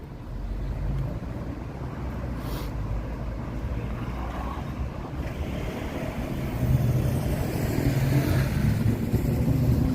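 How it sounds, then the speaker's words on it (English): Steady wind rumbles and buffets outdoors in San Francisco, a broad continuous roar that grows a little stronger toward the end. "it's a little bit windy today"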